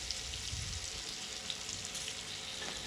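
Green chillies coated with turmeric and masala sauté in a pan, giving a soft, steady sizzle with faint stirring scrapes, close and uninterrupted.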